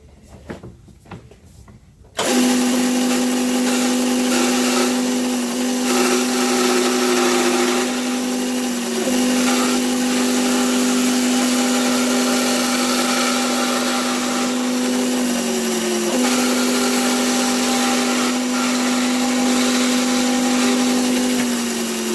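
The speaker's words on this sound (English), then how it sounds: "Now come along and let's just hog out the center with the chain." A Robinson chain mortiser hogs out the center of a mortise in wood, starting abruptly after a brief quiet moment and then running as a loud, steady motor whine with a constant pitch that dips slightly as the chain bites, with no talk.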